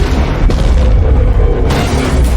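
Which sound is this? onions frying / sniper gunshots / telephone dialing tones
sniper gunshots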